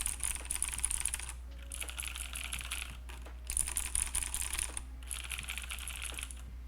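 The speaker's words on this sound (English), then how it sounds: "let's just run like a couple of typing tests" Rapid close typing on a keyboard with KARA clicky switches, a dense stream of crisp clicks in several bursts separated by brief pauses, over a steady low hum.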